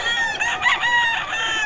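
A gamecock rooster crows once, loud and close, in a brief raspy, strained call.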